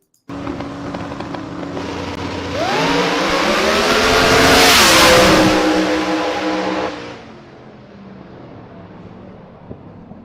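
Buick race car engine revs close by, a loud sustained roar that climbs in pitch, holds at full throttle, then eases back to a lower idle, with no voices.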